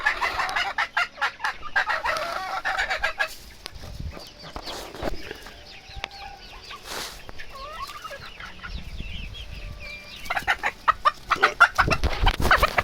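Young Rhode Island Red chickens cluck repeatedly in a backyard flock. Bursts of clucking come near and fairly loud, with a crow-like call partway through and no speech over them.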